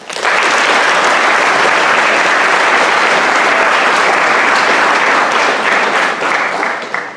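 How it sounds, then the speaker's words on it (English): At a fall sports awards event, a crowd gives sustained, loud applause for the staff and coaches, steady clapping that swells quickly and tapers slightly at the close. "Please let us give us a round of applause for all of those people."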